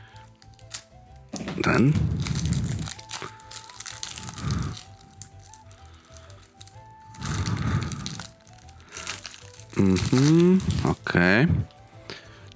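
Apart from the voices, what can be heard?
scissors cutting strong plastic packaging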